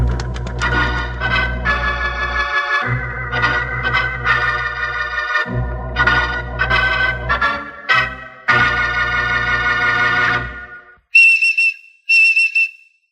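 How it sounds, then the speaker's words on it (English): A woodchuck gives a whistling call signalling food for its young, heard as a run of loud, sustained musical whistles with short breaks, ending in two brief, higher piercing notes. "That's the noise a woodchuck makes when he's got something specially good tasting for his youngsters to eat"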